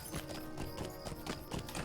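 Horse hooves clip-clopping along a road in the online game The Lord of the Rings Online, a quiet, steady rhythmic trot under a faint background score.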